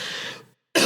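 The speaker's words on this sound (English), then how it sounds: "Coughing a lot, eh?" A man coughs hard in a close indoor setting: a harsh rasping cough that fades out, then a short silence and a sharp second burst starting at the end.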